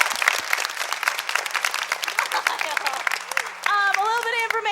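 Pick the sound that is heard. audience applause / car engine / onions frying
audience applause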